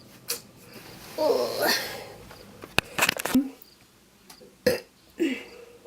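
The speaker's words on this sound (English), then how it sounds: "why am I burping so much?" Several close burps, some long and croaky, others short, scattered with clicks and small mouth noises in a quiet room.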